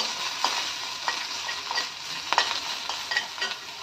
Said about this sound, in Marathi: लसणाच्या पाकळ्या कढीपत्ता हिरवी मिरची तिची फोडणी आणि परतून घेऊया